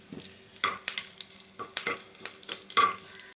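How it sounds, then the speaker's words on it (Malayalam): Mustard seeds and damp curry leaves, with a dried red chilli, crackle in hot oil for a homestyle chammanthi. Sharp, irregular pops and spits burst close by in short clusters. "വേപ്പിലയിലേ നനവുണ്ടായിരുന്നതാ പൊട്ടണ."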